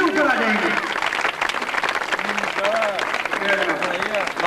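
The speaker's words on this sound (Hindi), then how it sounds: "ढेर सारी तालियां बजाएं" Audience applause at an anniversary gathering, steady dense clapping filling the whole stretch with no break, while a voice speaks over it.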